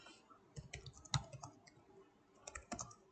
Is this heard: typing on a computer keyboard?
yes